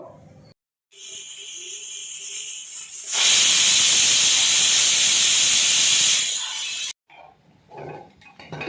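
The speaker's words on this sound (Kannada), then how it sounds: "ಮುಚ್ಚಳ ಮುಚ್ಚಿಬಿಟ್ಟು ಒಂದು ವಿಸಿಲ್ ಸಾಕು, ಒಂದೇ ಒಂದು ವಿಸಿಲ್ಲು." A pressure cooker on the stove lets off a loud, sustained hiss of steam for about four seconds, preceded by a fainter hissing release and followed by quieter kitchen sounds.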